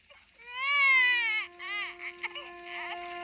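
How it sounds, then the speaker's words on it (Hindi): Cartoon-style baby crying, a loud wailing infant cry with rising and falling pitch that fades into softer whimpering sobs, heard alone without talk. "बच्चे की रोने की आवाज तो मेरे आंगन से ही आ रही है"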